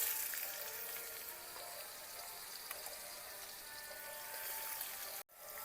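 Salted carrots fry in hot oil in a wok, a faint, even hiss of sizzling that runs steadily and cuts out briefly near the end.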